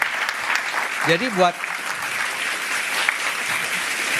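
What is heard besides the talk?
studio audience applause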